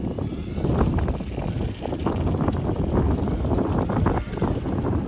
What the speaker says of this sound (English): It is getting quite windy here.